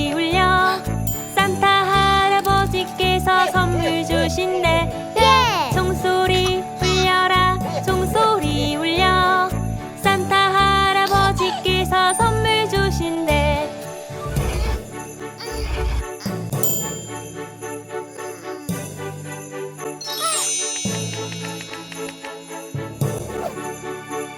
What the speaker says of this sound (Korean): 종소리 들려라 종소리